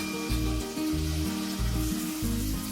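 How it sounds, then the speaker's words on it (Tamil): Roasted ingredients, including raisins, are stirred into millet payasam and sizzle steadily up close, with a constant hiss and faint scraping, and no voices. "நல்லா வறுபட்ட உடனே பாயசத்தில் ஆட் பண்ணிடலாம்."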